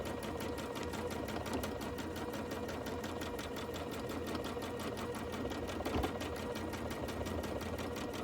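Sewing machine quilting an on-point quilt in circular stitching motions, running in a steady rapid needle rhythm at close range, with a brief bump partway through.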